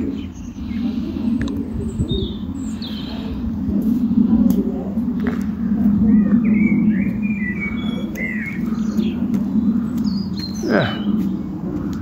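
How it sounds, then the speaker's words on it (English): Scattered bird chirps and short tweets over a steady low background hum, with a quick rising whistle near the end and a brief spoken word. "And a bit of bird sounds."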